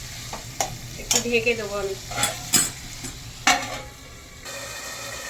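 Chicken being stir-fried in a pan, a sizzling hiss broken by repeated scraping and clattering of a utensil against the pan, close up, with a brief spoken remark over it.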